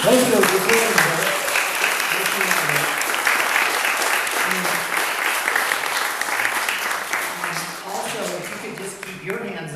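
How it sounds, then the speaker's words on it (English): An audience at an arts studio gathering breaks into sustained applause, a dense wash of clapping from many hands that holds steady throughout, with voices mixed in. "Let's give them an applause."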